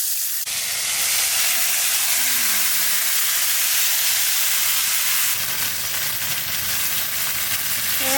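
Lote fish dropped into hot mustard oil gives a sudden loud surge of sizzling, then a steady, close, intense hiss of frying that holds throughout with no talking.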